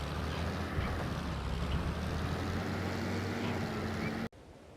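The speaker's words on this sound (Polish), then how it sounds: "Nawet słyszysz, że się dusi." Old Ursus tractor engine, in poor condition and choking, droning steadily with a rough, labored tone before it cuts out abruptly near the end, leaving near silence.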